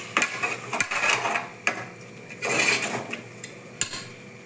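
Tomato paste being stirred in a metal cooking pot, with a spoon clinking and scraping against the sides in irregular taps and short scrapes, close and moderately loud.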